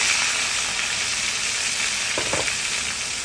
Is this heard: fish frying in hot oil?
yes